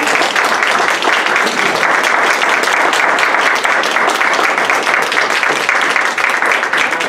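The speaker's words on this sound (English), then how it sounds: "Can we give all of our candidates a round of applause?" Loud, dense applause from an audience at a school district election forum, many people clapping steadily for the candidates, continuous and close with no talking over it.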